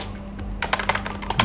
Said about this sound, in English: So we'll type